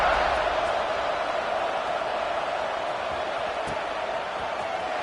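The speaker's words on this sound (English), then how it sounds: "this crowd is buzzing after that last score" A football stadium crowd buzzes after a touchdown, a steady, even roar of many distant voices with no single voice standing out.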